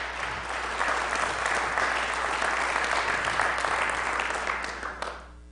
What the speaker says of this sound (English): So give yourselves a round of applause for that, for sure.